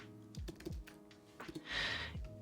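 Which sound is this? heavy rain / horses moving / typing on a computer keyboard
typing on a computer keyboard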